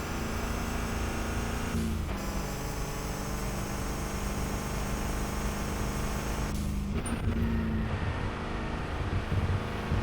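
A car engine in the RevHead racing video game roars continuously at high speed, its steady pitch broken by two quick downshifts that drop and then lift the tone, loud and unaccompanied by talk.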